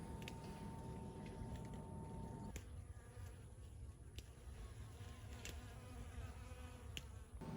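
Bees buzz around flowering buckwheat in a backyard, a soft, continuous insect drone with occasional nearer passes, faint and outdoors with no talking.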